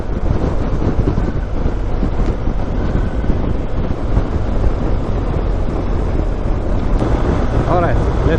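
A 2019 BMW R 1250 GS motorcycle rides at speed on a highway, a loud, continuous roar of engine and wind buffeting with no break, dense and close to the microphone.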